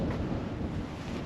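Wind buffeting a microphone outdoors near a wood, a loud low rumbling rush that stays steady and close throughout, with no voices.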